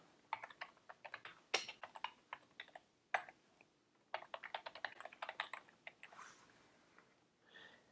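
A computer keyboard is typed on close by in quick irregular clatters of keystrokes, with short pauses and a brief sniff near the end, quiet and with no talk.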